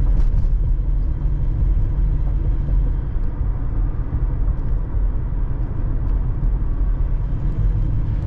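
Steady low road rumble and engine drone from a 1985 Buick Riviera with 54,681 miles, cruising on the road, heard from inside at a constant even level throughout.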